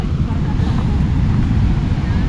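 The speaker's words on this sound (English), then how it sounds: "Those waves are smashing it." Ocean waves crash at high tide against the shore at Praia do Tonel in the western Algarve, Portugal, a loud continuous roar mixed with heavy wind buffeting the microphone.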